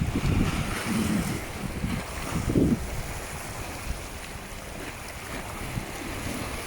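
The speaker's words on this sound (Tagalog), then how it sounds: "Ito ang dagat." Sea waves at the seaside, a steady close wash of surf with gusting wind buffeting the microphone and a few louder swells early on, no talk.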